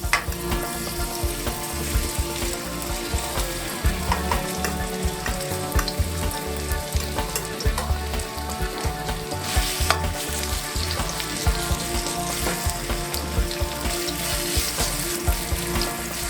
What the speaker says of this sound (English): Turn the pieces frequently so it gets fried on all sides.